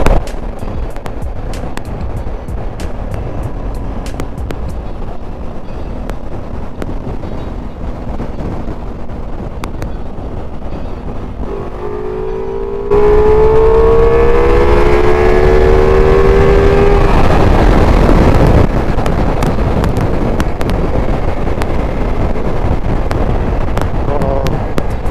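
A Ducati Multistrada V4S motorcycle races on the road, its engine note climbing in rising whines through the gears beneath heavy, loud wind buffeting on the microphone.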